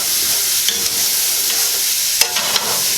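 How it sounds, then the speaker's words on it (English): Onions sizzle steadily in a hot pan used for a one-pan chicken dish, with a soft continuous hiss and a few sharp spatula scrapes and clicks as they are stirred. "So, the onions are going to start to soften up."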